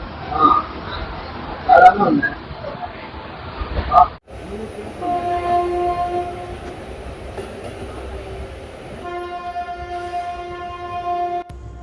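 Tiruvannamalai MEMU passenger train running out of Chennai Beach, loud rolling rail noise and clatter, then a steadier humming drone with tonal whine; voices come through in the first seconds.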